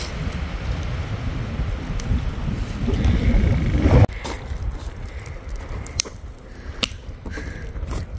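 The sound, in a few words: wind blowing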